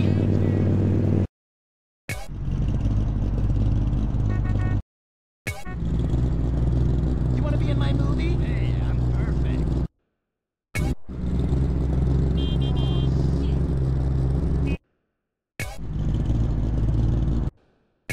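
Engine revs from a simulated car in a racing game using the Soundize engine-sound tool, loud and steady in several bursts separated by brief silent gaps, with a strong low drone and shifting higher tones.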